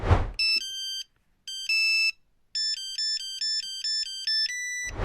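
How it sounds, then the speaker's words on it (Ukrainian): A characteristic beeping ringtone linked to a black BMW, with clear bursts of bright electronic tones, a short pause, then a steady run of repeated beeps. Loud and close, with no talk over it. "А характерне попискування стало на довгий час улюбленим рингтоном на мобілках водіїв, маршруток і таксі."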